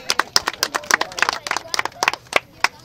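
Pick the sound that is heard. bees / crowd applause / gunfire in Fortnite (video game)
crowd applause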